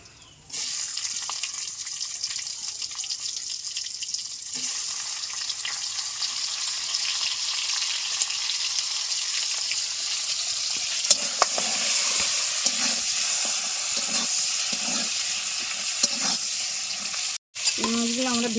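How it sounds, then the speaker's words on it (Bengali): Shrimp fry in oil in a wok, producing a steady, fairly loud sizzle for many seconds with occasional stirring scrapes and clicks, briefly cut by a sharp dropout near the end. "প্রথমে আমরা কড়াইতে তেল দিয়ে চিংড়ি মাছগুলো ভেজে নেব।"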